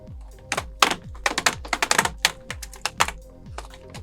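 An old keyboard being pushed up and pried out of a Lenovo ThinkPad laptop, a close series of irregular plastic clicks, taps and thunks, quiet and without talk.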